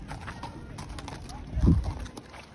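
Hooves of tourist ride horses clip-clop at a walk on a busy Friday in Saudi Arabia's Asir mountains, a scattering of soft steps with one louder thud, heard under ongoing talk.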